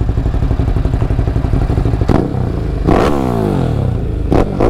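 A Kawasaki Z1000SX motorcycle engine revs loudly and close up, a throbbing idle rising in two or three sharp throttle blips with a rattling, whirring edge, and no voices over it.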